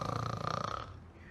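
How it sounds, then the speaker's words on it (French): An ogre's snore from a French audiobook telling of Le Petit Poucet: one long, rough, rasping breath that rumbles loudly and then fades out, with nothing else heard. "Aussitôt que le petit Poucet entendit ronfler l'ogre"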